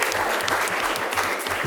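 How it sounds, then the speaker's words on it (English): An audience applauds at a live concert: dense, steady clapping that fills the whole stretch at close range, with no voices standing out. "how about another round of applause for Josh and Ray?"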